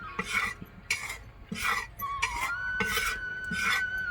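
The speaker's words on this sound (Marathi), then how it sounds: "आता हे बघा बाजरीचं पीठ मी भाजू घातलंय." Pearl millet flour roasts in a pan while a spatula scrapes it around in regular, rhythmic strokes, each a short rasping swish about half a second apart, close and fairly soft.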